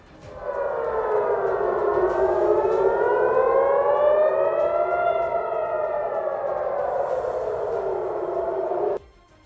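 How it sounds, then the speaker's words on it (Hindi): A civil defense siren wails alone over Tel Aviv at night, rising and falling in long slow sweeps, loud and sustained for several seconds before cutting off abruptly. "रात के वक्त अचानक तेल अवीव में इमरजेंसी सायरन की आवाज गूंज उठी।"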